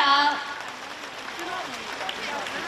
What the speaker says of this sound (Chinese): 让我们再次以最热烈的掌声感恩大慈大悲的观世音菩萨